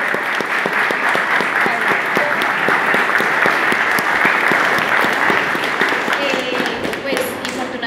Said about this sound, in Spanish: Fuerte aplauso para ellos